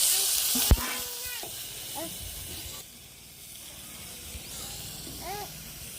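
Hissing sizzle of tomatoes and green chillies frying in a hot pan, steady throughout, with occasional clinks and brief voices over it.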